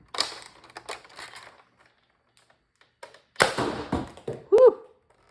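A Nerf Atlas dart blaster fired one-handed: scattered mechanical clicks and handling taps, a pause, then a sharp burst of priming and a snapping shot close by, followed by a short vocal exclamation.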